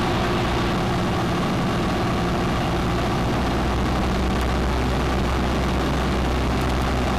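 A light aircraft engine drones loud and steady at close range as the plane taxis slowly along the runway, a dense unbroken rumble with no talk.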